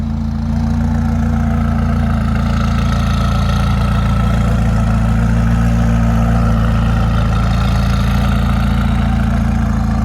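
A tuned 2017 McLaren 570S with a 3.8-liter twin-turbo V8 idles steadily and loudly up close, a constant deep rumble with a faint ticking texture and no talking.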